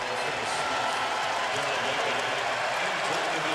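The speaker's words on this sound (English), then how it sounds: "Greeted by enthusiastic applause again." Enthusiastic arena applause at an NBA basketball game between the Dallas Mavericks and Indiana Pacers, a broad steady wash of clapping and crowd noise throughout, moderately loud and sustained.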